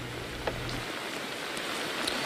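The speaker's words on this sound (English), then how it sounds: "we are starting to see a little bit more of a downpour here in Cranston" Heavy rain pouring down outdoors in Cranston, a dense, continuous hiss of falling water that stays even and steady throughout, with no voices.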